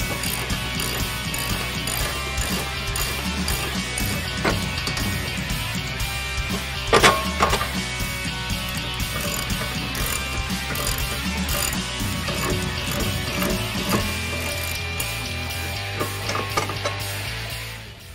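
A ratchet loosens the lower control arm bolt on the rear suspension of a 2015-2023 Ford Mustang, a steady run of close, rapid clicking strokes with a few louder metallic knocks partway through.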